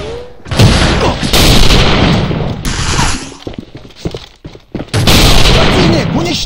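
Grenade blasts and rattling gunfire from the online shooter A.V.A., loud and dense, with heavy booms and rapid shots that briefly drop out before another explosive burst.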